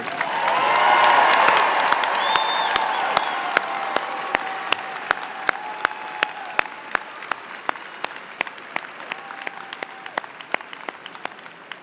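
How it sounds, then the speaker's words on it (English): Large crowd at the Ohio University fall commencement applauds its new graduates, starting with cheers and shouts over dense clapping that gradually thins into scattered, distinct individual claps toward the end. "Let's give a big round of applause to the newest members of the Bobcat alumni family."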